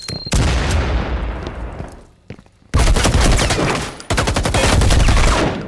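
A grenade blast and heavy gunfire in a video game, with loud sustained bursts of shots and explosions broken by brief pauses.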